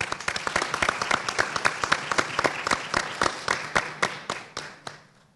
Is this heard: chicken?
no